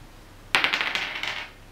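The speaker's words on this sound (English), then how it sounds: "Throw the dice." Dice are thrown onto a table during a children's board game, landing with a sharp clatter followed by a quick series of small rattling bounces that fade over about a second.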